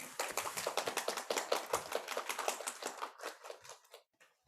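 An audience at a lecture hall in Sinchon claps to welcome a lecturer, with dense, close applause that thins out and fades to a few scattered claps at the end.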